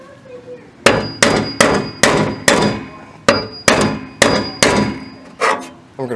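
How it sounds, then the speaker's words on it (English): A series of sharp metallic hammer strikes on a center punch into metal, about a dozen blows in an uneven rhythm, each ringing briefly with a bright clang, close and loud. "So what we're going to do is put the center punch right there."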